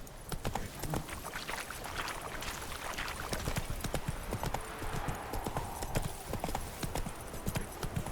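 A horse's hooves clip-clop steadily at a walking pace in The Witcher 3 video game, close and even, over a broad noisy ambience, with no voices.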